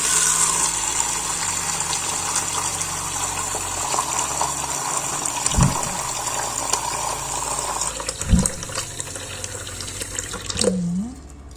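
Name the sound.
lukewarm water poured into a plastic box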